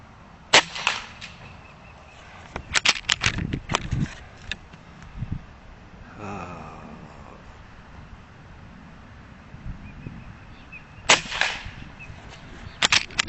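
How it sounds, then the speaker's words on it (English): Rifle shots firing 55 grain slugs, a series of sharp reports in irregular bursts, some spaced singly and some in quick clusters, moderately loud outdoors with a brief pause midway. "Let's get to shooting."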